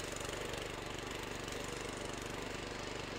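A motor tiller's engine runs steadily with the rotovator blade engaged, a low, rhythmic chugging drone heard nearby and continuous throughout.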